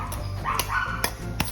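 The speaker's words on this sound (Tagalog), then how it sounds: "Ang ingay ng aso ko." A dog barks in short sharp yips, three or four quick barks spaced apart, fairly close, over a low background hum.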